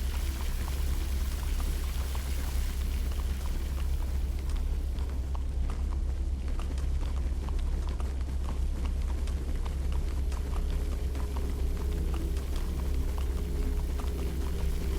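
Flowing water system inside a house in Minecraft Story Mode, heard as a steady, loud broadband rush with light splashing and trickling throughout, continuous and close, with no talking.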